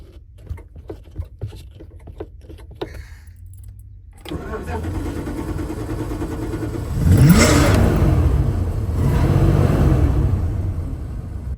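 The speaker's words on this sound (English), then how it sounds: "the van still needs some work when you crank it up" An old van engine with a cold-start problem cranks after a few faint clicks, then catches and runs roughly with a couple of brief revs, close by.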